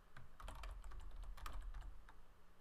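Fingers tap quickly on a computer keyboard in a close, quiet burst of irregular clicks while text is entered into an org chart program.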